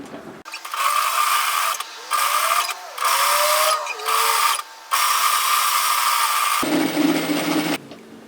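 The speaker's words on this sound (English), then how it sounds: "I'm just going to sew another row of stitching parallel to the first." A sewing machine stitches a parallel row on a fitted tee, loud close whirring in several bursts separated by short pauses, with no speech.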